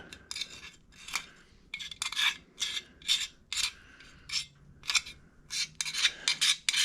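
A wire wheel scrubs old coating off a Toro Timecutter SS5000 mower part in short, rasping strokes, each a burst of about half a second, repeated steadily and close.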